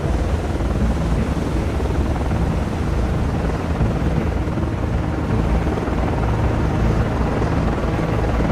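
A helicopter lands on a destroyer in the Cold Waters naval game, its rotor giving a steady, loud, dense throbbing roar that holds unbroken throughout with no voices.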